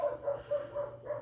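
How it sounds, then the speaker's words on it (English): Dog barking somewhere in a country home kitchen during pecan pie baking: five soft, evenly spaced barks, faint and somewhat distant over a low steady hum. "Dog's barking."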